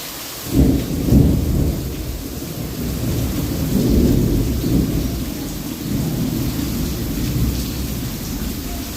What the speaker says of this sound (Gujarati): વીજ ગાજવીજ બહુ છે.